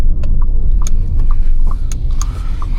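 A Tata Sierra diesel engine pulls hard in second gear toward 4000 RPM, heard as a steady low drone from inside the cabin, with a few faint clicks and no talking.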